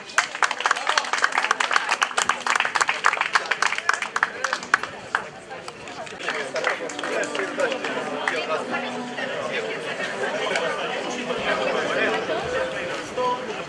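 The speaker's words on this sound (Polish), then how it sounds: "Gratulacje, gratulacje i brawa!" A crowd at a local cycling race award announcement claps, sharp and loud at first, then fades into a murmur of chatter and babble with continuing scattered applause.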